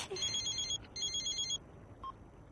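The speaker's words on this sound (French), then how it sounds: "C'est ton téléphone." A telephone rings indoors in two close electronic bursts of repeated chirping tones, then stops, followed by a brief faint beep with no speech.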